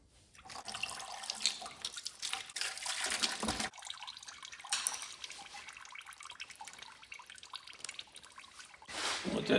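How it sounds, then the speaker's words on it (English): Fluid dripping out of a 1970 GMC C2500 engine, a close irregular run of drips and trickling splashes with louder bursts at the start and end. "Let that drip out."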